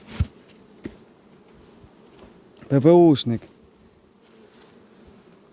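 Honey bees buzz around a beehive in a steady low drone, with a short burst of a nearby voice partway through.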